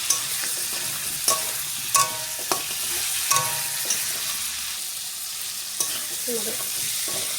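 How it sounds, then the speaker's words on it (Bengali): Potato and tomato frying with cumin powder in a pan, a steady close sizzle broken by several sharp scrapes and knocks of a spoon stirring against the pan. "আলু টমেটোটা ভাজা হয়ে গেছে, মশলাটাও ভাজা হয়ে গেছে, কষানো হয়ে গেছে"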